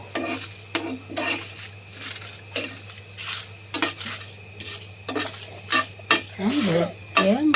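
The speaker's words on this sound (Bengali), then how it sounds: "গোটা গোলমরিচ, জিরা, মৌরি ভেজে নেব, হালকা আছে ভেজে নেব" Whole peppercorns, cumin and fennel dry-roast in a pan, with a utensil repeatedly scraping and clinking against the metal over a faint sizzle. A voice briefly speaks near the end.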